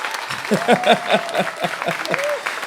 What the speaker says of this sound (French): Ça s'applaudit plus fort que ça.